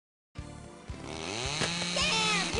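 A chainsaw starts up and revs loudly with a rising, rasping whine, steady and close, with no voices.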